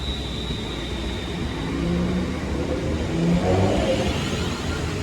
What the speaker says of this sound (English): There goes the train that brought me in from Aston.